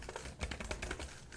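Rapid, uneven keystrokes clatter on an MSI laptop keyboard, a steady patter of close, crisp clicks with no pauses and no voices.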